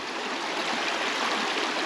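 River water rushing through rocks at Cossatot River State Park, a steady broadband hiss and gurgle that stays even and fairly loud throughout, close by, with no voices.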